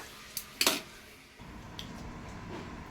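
A lid set on a pot of prawn gongura curry, a couple of quick metallic clinks then a louder clatter as it settles, followed by a low quiet simmer.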